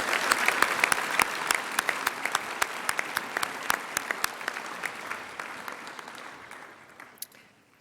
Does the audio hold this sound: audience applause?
yes